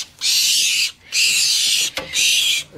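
A young barn owl shedding its down gives three loud, harsh hissing screeches in a row, each lasting about half a second to a second, very close and alone with short gaps between them.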